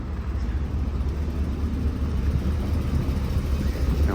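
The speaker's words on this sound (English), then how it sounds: "Looks like they got Brink's truck delivering some money." A Brink's armored truck rolls by outdoors with a steady low engine rumble and road noise, even in level throughout, with no voices.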